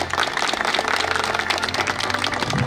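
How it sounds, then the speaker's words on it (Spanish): An audience at a community gathering applauds for Don Ángel with steady, dense clapping that continues for the whole stretch without a break. "Vamos a aplaudir a Don Ángel también, por favor."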